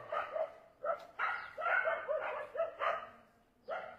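Several dogs bark in a place crowded with many dogs, sending out close, sharp barks and yips in repeated uneven bursts with short pauses between them.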